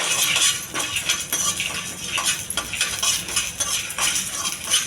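Mustard seeds, chana dal and dried chillies fry in a pan, with metal spoon scrapes and clinks over a soft sizzle, close and fairly quiet.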